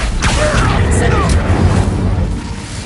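An Incendio fire spell in Hogwarts Legacy goes off as a loud, close booming whoosh with a crackling burst, and a voice speaks briefly over it.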